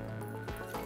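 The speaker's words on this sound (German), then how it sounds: "jetzt tropft es schon" Liquid from grated zucchini squeezed in a dish towel drips and trickles close up, with soft wet squishes and a few distinct drops over a low continuous background.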